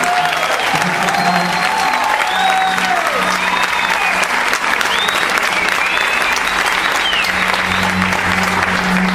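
A church congregation bursts into loud, sustained applause during a Spanish-language sermon, close and dense clapping with some whoops and a low hum underneath.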